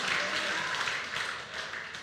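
Congregation applauding at a church gathering, a dense, steady wash of many hands clapping that holds for the whole stretch, fairly loud and near, with faint voices mixed in.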